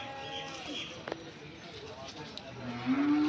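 Cattle at the old Manik Nagar cow market in Singair, Manikganj; a single moo swells near the end over a low murmur of market bustle and voices, with a sharp knock heard earlier.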